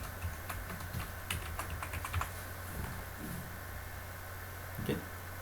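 Keys on a computer keyboard tapped in quick, uneven bursts while a document is annotated for homework submission, close and moderately loud over a steady background hum, with no talking.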